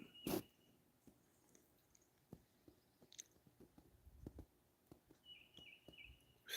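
Outdoors, a bluebird gives faint, distant whistled notes, one short burst early and a longer sustained phrase near the end, over quiet background rustles and clicks.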